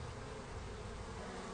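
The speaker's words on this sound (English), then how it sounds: "the bees are suddenly busy feeding inside the hive" Honeybees buzz steadily around a hive, a dense continuous hum that stays even and fairly close throughout with no voices.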